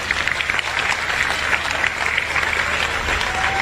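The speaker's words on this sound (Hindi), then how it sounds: "आप ताली बजाते हो" Audience applause fills the whole stretch as a steady wash of many hands clapping in a hall during a Hindi talk, loud and continuous, with a faint voice underneath.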